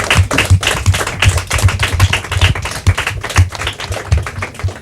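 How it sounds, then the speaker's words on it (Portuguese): Quiz-show audience clapping for a team after a correct answer in a Portuguese-language round, a dense run of close, sharp hand claps keeping a fairly even rhythm for several seconds. "Palmas para a Caravela."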